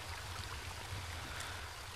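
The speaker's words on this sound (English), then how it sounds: "Okay, random water noise." A river in the pixelated horror game Home flows as a steady, faint rushing wash of water, continuous and without any voices.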